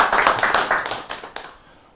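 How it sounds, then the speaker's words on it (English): A small group applauding Sandy during a cooking class with a chef, a short cluster of sharp hand claps that thins out and fades to quiet within about a second and a half. "So let's give Sandy a round of applause."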